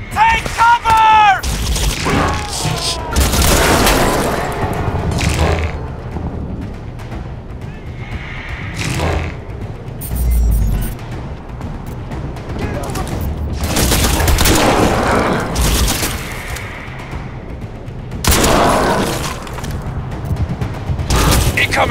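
Heavy gunfire and explosions in the shooter game Crysis 2, with sustained volleys and booming blasts recurring over about twenty seconds and shouted game voices mixed in.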